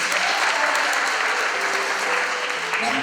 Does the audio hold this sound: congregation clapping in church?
yes